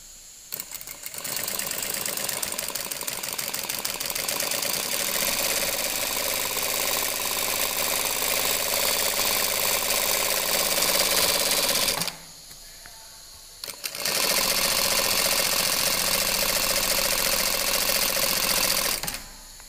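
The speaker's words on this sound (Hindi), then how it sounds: "अभी आपको मैं सिलाई लगा के दिखाता हूँ" A Jaki JR9800NA high-speed lockstitch industrial sewing machine stitches cloth with a loud, fast, steady whirring hum, running in two long bursts split by a short pause.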